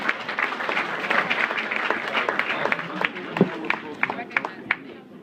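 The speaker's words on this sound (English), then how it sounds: "Please welcome Mr. Jorge Martinez, the coach for the years 89 to 1993." Audience applause welcoming a former coach onto the stage at a school speaking event, steady dense clapping through the whole stretch with a few sharper individual claps standing out near the end.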